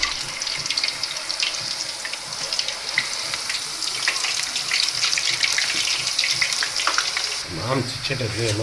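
Thin potato wafer slices fry in hot oil with a loud, dense, continuous sizzle and crackle close by, shifting near the end as more slices go in or get moved.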